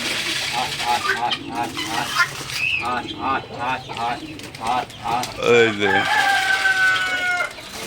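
Chickens cluck repeatedly and a rooster crows nearby while feeding together with pigeons, which coo among them, and a person talks over the birds.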